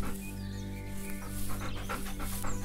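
A dog pants in quick, steady breaths close by while approaching an eastern box turtle outdoors, with faint bird calls in the background.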